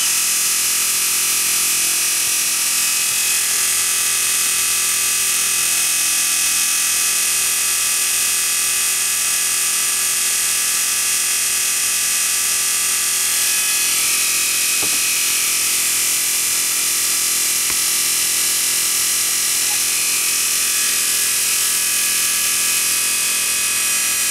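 A rewound 750W Bosch electric motor spins steadily at about 2500 RPM, giving a loud, constant high-pitched whine with a broad whirring hiss that holds throughout, with no talk over it.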